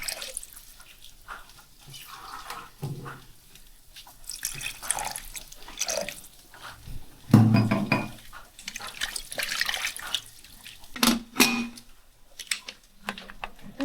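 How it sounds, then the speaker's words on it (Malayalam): Water is poured into a pot holding washed beef pieces for curry, splashing unevenly with a few metallic clanks and bursts. No one speaks. "ഇതിലേക്ക് ആവശ്യത്തിന് വെള്ളം ഒഴിക്കുക."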